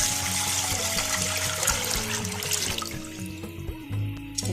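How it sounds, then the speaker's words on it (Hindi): Water pours steadily into a pan on a stove, a continuous close splashing and trickling that shifts slightly in tone as it fills. "ये मैंने एक पैन पर रख दिया और ये मैं इसमें पानी डालूंगी।"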